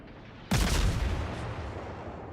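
Naval guns fire in World of Warships aboard the Minekaze destroyer: one sudden loud, close boom that rolls into a long, slowly fading rumble. No one speaks.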